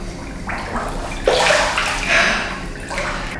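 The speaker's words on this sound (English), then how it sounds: "why does the water trickle out?" Water in a bath sloshes and trickles out as a body lowers in, making broad, washy swells of splashing that rise and fall over a low, steady hum.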